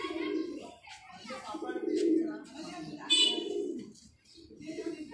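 Pigeons coo in soft, repeated throaty phrases close by, several rounded calls with brief pauses, while a voice speaks intermittently alongside.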